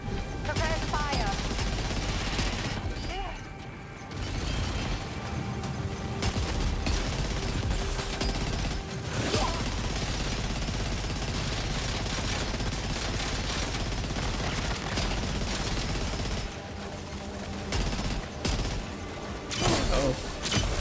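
Sustained volley of gunfire in a Death Stranding 2 battle: dense, loud bursts of automatic fire and shots overlapping continuously throughout, with voices shouting in between.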